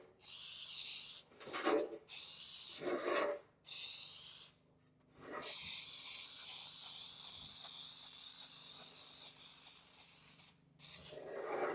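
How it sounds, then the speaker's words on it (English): Several bursts of cooking spray hiss into a sheet pan, short at first, then one long continuous spray, close up with no talking. "I want to make sure and spray it good."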